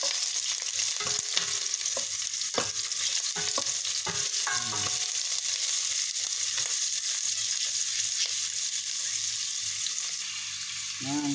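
Onions sautéing in a pan as the base for Filipino lomi soup, a steady close sizzle with scattered stirring clatters and scrapes through the first half, then continuous frying hiss alone.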